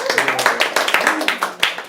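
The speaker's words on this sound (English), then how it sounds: "Give Eric a round of applause" Audience clapping in a talk setting, with individual claps fairly close and distinct, roughly evenly paced, and voices audible alongside.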